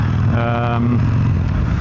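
Harley Sportster-engined Buell motorcycle rumbling loudly as it crosses an intersection, a steady close engine roar with a brief rising rev partway through.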